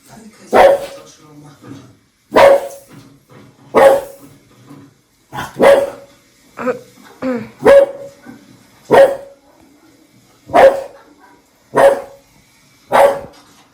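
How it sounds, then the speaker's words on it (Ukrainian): A dog barks repeatedly and steadily, about every second or two, loud and close, with a person talking faintly in between. "Гавкає на твій телефон."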